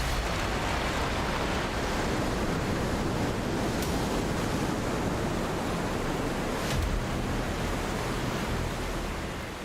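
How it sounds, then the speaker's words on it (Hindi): The fast-flowing Alaknanda river roars out of the mouth of a glacier, a loud, continuous broadband rush of water that stays steady throughout, with no voices. "तेज बहती नदी की आवाज सुन सकते हैं"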